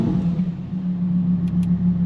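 A Lamborghini Huracan Performante in Corsa mode gives off a steady, deep engine rumble, close and constant, with no other sounds over it.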